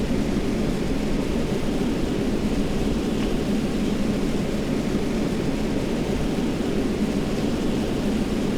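A rocket launches in the video game Kerbal Space Program with a loud, unbroken engine roar that holds steady from start to end, heard alone.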